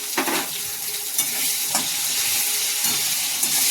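Cashews and slit green chilies fry in oil in a pan for flattened-rice pulao, giving a steady, close sizzle with a few soft scrapes of stirring. No one speaks.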